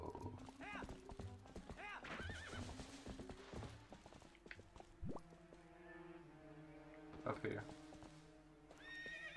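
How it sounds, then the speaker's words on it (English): Horse in Zelda: Twilight Princess HD galloping with rhythmic clip-clop hoofbeats and letting out loud whinnies, mixed with game sounds and a brief bit of talk. "Let's go, horse."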